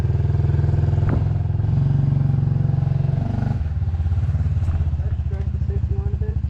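A motorcycle engine hums steadily at low revs while a novice rider practises easing off the throttle and making a small U-turn near a fence; a voice talks over the close, continuous engine note.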